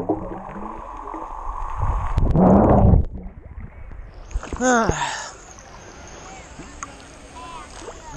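A waterproof cube-shaped GoPro camera plunges underwater, with muffled splashing and bubbling gurgles, a loud churning burst, then a low submerged hum with rising warbles.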